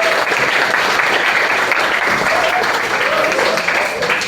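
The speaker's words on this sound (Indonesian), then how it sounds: "Tepuk tangan buat Pepal." Classroom applause for a student, a dense continuous burst of many hands clapping close by, with voices mixed in.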